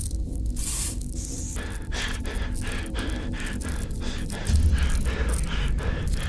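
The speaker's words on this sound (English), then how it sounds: "it looks like Chica needs another dose of the chemi spray" A chemi spray canister hisses in bursts in the Five Nights at Freddy's game, with repeated short sprays and a broad steady wash of noise, loud and close.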